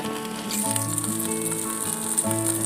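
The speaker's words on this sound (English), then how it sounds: "You can hear them frying." Breaded chicken wings sizzle in a Power Air Fryer Pro with a bright, steady hiss, close by, with a low hum and faint tonal whir beneath it.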